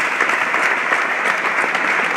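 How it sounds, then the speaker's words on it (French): Sustained audience applause fills a theatre hall after a French-language performance, a dense, even wash of many hands clapping steadily throughout with no talking. "Applaudissements"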